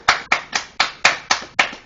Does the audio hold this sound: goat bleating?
no